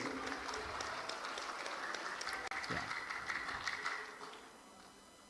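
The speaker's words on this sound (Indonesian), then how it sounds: "tepuk tangan untuk Dewan Hakim" Applause from a crowd at a Quran knowledge competition final, steady and fairly loud for several seconds before fading out, with a brief spoken word near the start.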